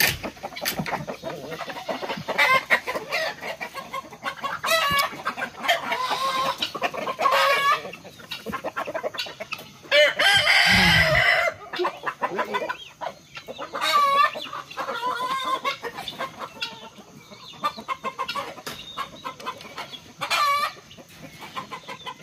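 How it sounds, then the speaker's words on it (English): Chickens clucking and squawking close by in repeated bursts, with a louder flurry midway and no talk. "we're gonna release only the big chickens and let the little"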